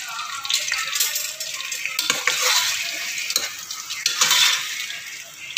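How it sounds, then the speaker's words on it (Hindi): Sliced onions fry in half a cup of hot ghee for chicken korma, giving a constant crackling sizzle broken by repeated scraping and stirring strokes from a spoon in the pan. "ये इसको हम लाइट ब्राउन करेंगे प्याज को"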